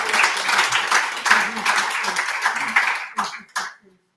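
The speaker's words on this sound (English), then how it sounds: "Can we quickly give a round of applause for Mr." Attendees at a breakfast summit on co-operatives and the fishing industry clap after a presentation, a brisk round of applause that thins into a few scattered final claps before falling silent.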